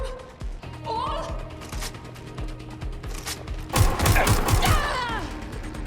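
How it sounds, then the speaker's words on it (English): Gunfire crackles in a Watch Dogs Legion cutscene: scattered sharp shots, then a louder, denser volley in the second half, mixed with voices and action noise. "Taking fire!"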